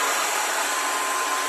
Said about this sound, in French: j'ai mis un bouton ici pour faire marcher l'aspirateur, voilà, qu'elle va démarrer tout seul